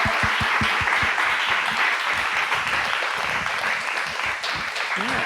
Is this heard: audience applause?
yes